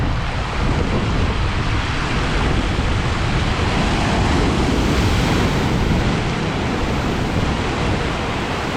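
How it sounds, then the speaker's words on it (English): Ocean waves crash and foamy water rushes in from all directions at Monks Bath, a loud, continuous broadband surf roar with wind buffeting and no voices. "the water is rushing in at a feverish pace in all directions, and you can hear the sounds of the waves crashing"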